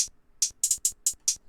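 A hi-hat preset from an experimental sound kit, used in an ambient beat, plays as a series of crisp, bright ticks in an uneven groove, with a few quick doubled hits. It is heard alone, without talk.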